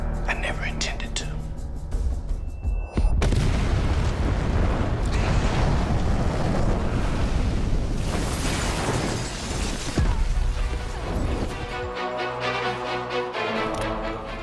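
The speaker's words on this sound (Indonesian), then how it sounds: "tiba-tiba bom dari Om Moody pun meledak" A bomb blast in an action film about a female assassin, a loud sustained roar with rumbling bursts that fills most of the scene, with a sharp impact near the start and a dramatic score and voices around it.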